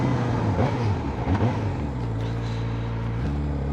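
A 2025 Kawasaki ZX-4RR motorcycle engine pulling away onto a track, a loud close rising and dipping engine drone with gear-like pitch steps, continuous and alone, without talk.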